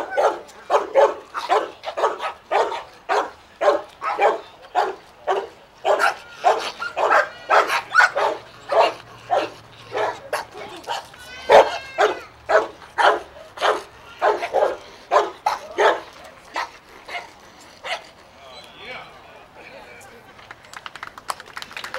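A trained protection dog barks in a steady, controlled rhythm, one sharp bark roughly every half second, over a long stretch at an outdoor shooting event, with some faint background noise.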